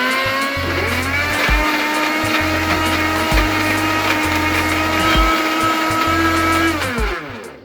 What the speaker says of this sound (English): Now it's time to blend.